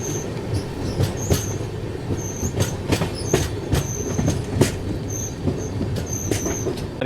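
Andhra Pradesh Express train running between Visakhapatnam and Gudur Junction, with a steady loud rumble of wheels on rails, rhythmic clicks and occasional sharp high squeals from the wheels, heard close from inside the moving train.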